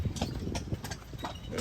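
Horse hooves clip-clop in a quick, even rhythm on a carriage ride at Disney World, close and clear with a soft background hum.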